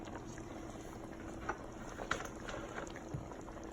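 Rice and beans boil in bean broth on a stove, a steady low bubbling simmer with a few sharper pops, fairly quiet and continuous.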